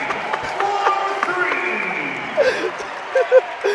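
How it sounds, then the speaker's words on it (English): Basketball crowd at an NCAA men's game between Cincinnati and Nicholls State cheers after a made three-pointer, a steady broadband roar with a few sharper swells, and voices talking over it. "Everyone's cheering"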